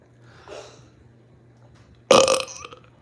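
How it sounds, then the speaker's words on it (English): A man lets out a single loud, rough burp near the close of a song, after a faint murmur earlier and low background hum. "A dude burps at the end."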